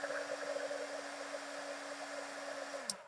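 A heat gun melts clear embossing powder on a craft tag with a steady, close whirring blow. It runs for about three seconds, then cuts off with a small click.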